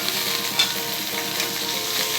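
Pepper mutton masala with curry leaves fries in a pan, a dense, continuous close-up sizzle with soft stirring and no voices.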